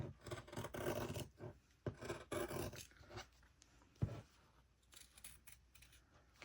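Scissors snip and rasp through fabric to trim excess from handmade candy cane ornaments, with repeated close, soft cutting strokes in a quick irregular rhythm, then quieter rustling toward the end.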